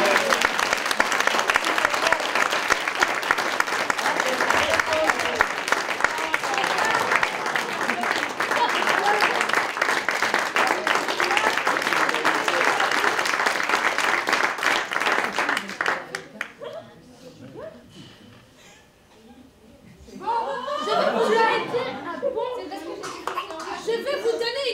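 Dense, loud applause from an improv show audience runs for about sixteen seconds and then fades, leaving scattered clapping, laughter and voices talking over the room.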